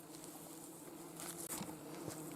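A horsefly buzzes steadily around the microphone outdoors during grass cutting and haymaking. Its faint, continuous whine rises and falls slightly as it circles, with no talking.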